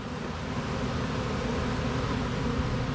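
Honey bees hum steadily around a hive, a dense, continuous buzzing heard close up with no voices.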